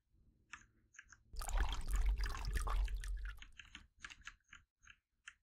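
Water poured over spider plants in the Spider's Web video game, a close splashing gush lasting about two seconds, framed by faint scattered drips and clicks before and after.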